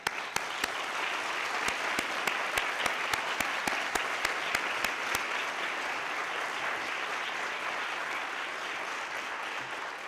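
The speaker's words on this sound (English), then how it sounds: "I really want to give a special round of applause for what has been accomplished today" Applause from the audience at the closing plenary of the 2009 Innovation Summit, dense and steady with a few sharp, louder claps punctuating the first half before settling into an even, sustained roar.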